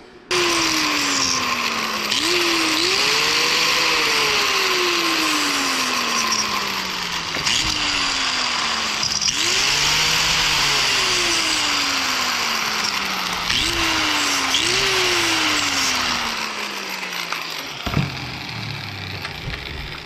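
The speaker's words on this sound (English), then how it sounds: "So I'm going to go ahead and do that using a grinder, being as careful as I can." A grinder cuts the caps off fuel injectors to decap them for a turbo K20 engine, its loud steady whine rising and falling in three long passes as the disc bites and eases, with no talk over it.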